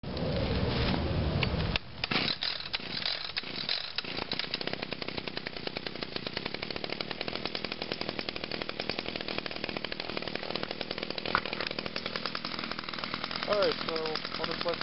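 A small gasoline lawn mower or trimmer engine catches after about two seconds and settles into a steady, loud buzzing idle that carries on to the end. It keeps running after a week without use.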